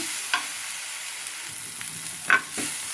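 Onion, ginger and green chillies fry in a pan with a steady, close sizzle, broken by a few soft stirring scrapes and clicks, with no voices.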